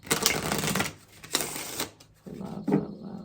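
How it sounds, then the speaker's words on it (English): Oracle card deck being shuffled, the Divine Feather Oracle deck, heard as two close bursts of riffling, papery rattle followed by softer, lower shuffling sounds. "It's a really weird shuffle."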